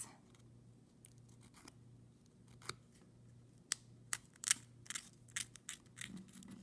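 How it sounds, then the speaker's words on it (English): Nail file rubbing in short downward strokes to trim excess from a Color Street nail polish strip, a series of crisp scratchy rasps, sparse at first and then coming faster and louder, close-up over a faint background hum. "you're just going to file in a downward motion"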